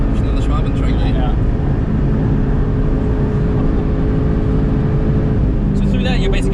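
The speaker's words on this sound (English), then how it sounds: "you can hear the car understeering" A Porsche Cayman GTS on a hot lap of the Ring, its engine a loud, steady drone heard from inside the cabin, with road and tire roar throughout and some brief higher whine near the end.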